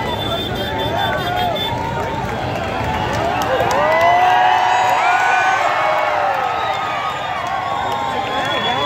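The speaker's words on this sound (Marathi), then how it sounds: "क्या बात आहे, जरा जोरदार टाळ्या झाल्या" A large crowd at a Dahi Handi gathering at Kranti Chowk cheers, whoops and shouts in a loud, dense roar, with overlapping voices and nearby chatter throughout.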